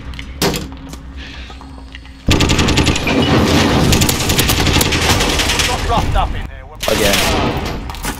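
Video game gunfire in Warzone: loud, close bursts of rapid automatic fire in sustained volleys with brief gaps, a player's voice speaking briefly over the shooting.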